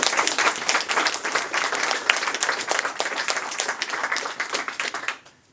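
Sustained audience applause from a seated crowd at a summer school event, dense and even clapping that carries loud for several seconds before fading out at the end.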